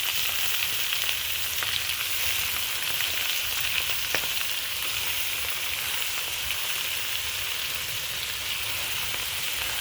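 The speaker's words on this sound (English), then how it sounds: "Go ahead and add our spinach with the already boiling oil." Spinach sizzles and crackles in hot oil in a pan, a steady bright frying hiss that runs without pause, with a few faint clicks and no voices.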